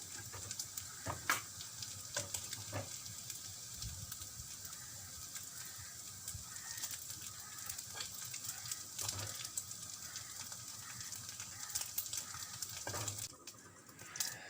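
Chicken fries in hot oil with a steady, fairly quiet sizzle that continues throughout, broken by occasional pops and soft clinks of a stirring utensil.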